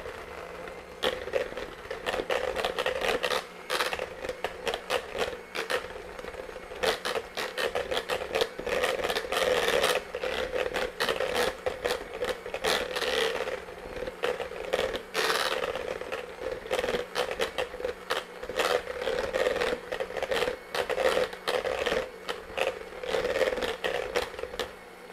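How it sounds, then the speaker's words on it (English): Cream cheese beaten with a hand mixer for a cherry lemon cheesecake pie, a steady, fairly close motor whir with constant scraping and rattling against the bowl for about 25 seconds, no talking. "we're just gonna blend that with a hand mixer until it's light and fluffy"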